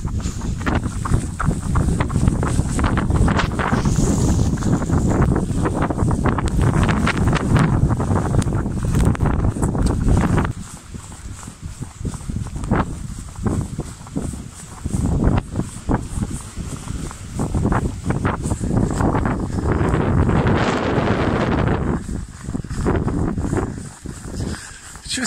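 Heavy wind roars and buffets the microphone during a winter run in -4 degree snowfall on open farmland, a loud, continuous rumbling blast that eases briefly partway through, then surges back in gusts.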